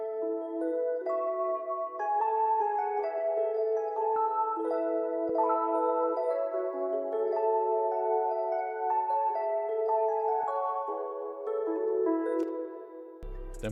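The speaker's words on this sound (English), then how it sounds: "The next sound we've gone in and added is this RHODES piano" Rhodes electric piano from the Champions analog lab kit plays sustained, mellow chords that copy another piano's progression, a steady and full layer without gaps that fades at the very end.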